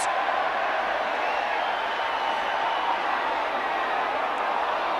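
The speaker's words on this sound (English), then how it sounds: "The Warrington crowd trying to get behind them now" Steady wash of a Warrington rugby league crowd cheering and roaring at a match, distant and continuous with no breaks throughout.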